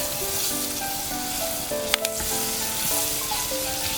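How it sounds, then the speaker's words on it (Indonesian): Onion sizzles steadily in margarine in a hot pan with a brief clatter of stirring midway; the frying hiss continues evenly throughout without any talking. "Masukkan bawang bombay, kita tumis sebentar."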